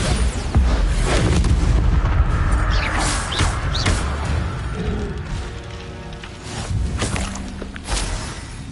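Bombarda blasting spell explosions in Hogwarts Legacy, a string of loud booming blasts with whooshing magical swells and crackling debris, recurring every second or two over a dense, rumbling battle bed.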